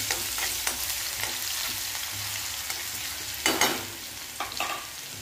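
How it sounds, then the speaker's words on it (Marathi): Cumin, mustard seeds, two or three red chillies and a spoonful of crushed garlic fry in hot oil for a dal dhokla tempering, giving a steady close sizzle with a few sharper spatters and stirring scrapes. "तेल गरम झालेलं आहे, त्याच्यामध्ये थोडे जिरे आणि मोहरी टाकून घ्यायचे आपल्याला।"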